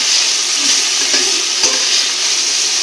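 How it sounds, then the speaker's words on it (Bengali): Peas lightly frying in a pan for an egg, pea and saffron pulao give a steady, close, loud sizzle with faint stirring scrapes throughout. "সেই জন্য ভাবলাম যে একটু হালকা করে ভেজে নিই, দিয়ে রেখে দেবো"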